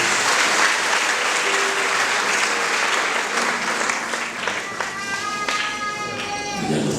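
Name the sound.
church congregation applauding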